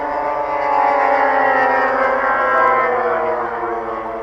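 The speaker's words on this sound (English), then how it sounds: "the aircraft's going past at full revs is actually the tips of the propellers going supersonic" A giant-scale wooden DH.88 model aircraft passes at full revs, a sustained harmonic propeller whine that swells as it nears and fades slightly as it moves away, with no talking.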